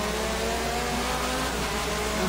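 A race car's engine droning loudly and steadily in Forza Motorsport 7 on the Nürburgring, a continuous close mechanical roar with no pauses or speech.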